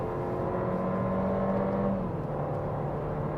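Mercedes-Benz CLA Shooting Brake engine droning steadily from inside the cabin while driving, with a tone drop around the middle as the gearbox shifts on its own in sport mode.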